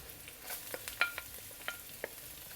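Ginger, spring onion and chopped garlic stir-frying for clams in black bean sauce, a faint sizzle with a few light scrapes and taps of a utensil in the pan.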